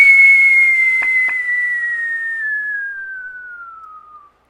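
A synthetic whistle effect built in Audacity plays alone as one clean, steady tone that glides slowly downward in pitch over about four seconds and fades out, with two faint clicks near the start.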